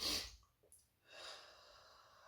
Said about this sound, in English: followed by an extra little inhale. I call it a sniff